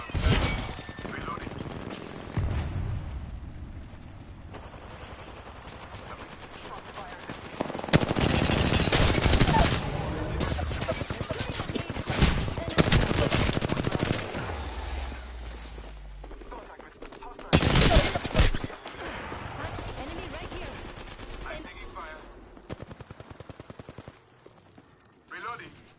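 Bursts of automatic gunfire and shooting in the battle-royale video game Apex Legends, loud and repeated with heavy volleys, mixed with in-game noise and character voice lines.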